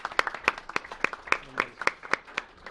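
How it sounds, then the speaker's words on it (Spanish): Brief, sparse applause in a Mexico City legislative commission meeting welcoming a deputy, a handful of people clapping in distinct separate claps at a moderate, fairly quiet level. "Y le damos un aplauso."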